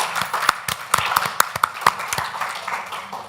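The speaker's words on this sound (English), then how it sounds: "clap for yourself, please" A church congregation at a Sunday service breaks into a short burst of scattered, uneven hand claps, fairly close and lively, that thins out within a few seconds.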